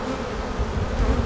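Dense, steady buzzing of a honeybee colony heard up close in an open hive during a beekeeping inspection, a continuous droning hum with no talking.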